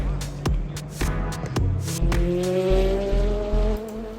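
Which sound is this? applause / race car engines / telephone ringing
race car engines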